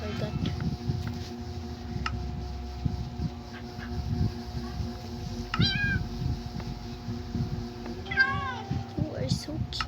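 A cat gives a couple of short, high meows, one midway and another near the end, over a low steady hum and soft talking.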